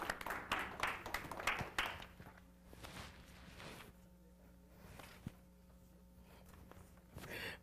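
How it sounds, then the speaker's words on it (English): Applause at a school business-pitch event for a student presenter, sparse and fairly quiet, with scattered claps and a louder burst near the start that thins into room noise. "So you all give Reginald a round of applause."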